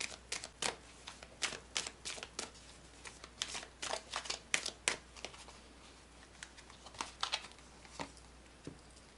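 A deck of Lenormand oracle cards is shuffled by hand, producing close, soft snapping and riffling taps in irregular bursts, quiet and without speech.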